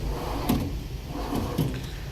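A drawer on an Icon tool box slides on its metal runners, making a couple of soft rolling thuds and a faint clack as it opens and shuts, close by and fairly quiet.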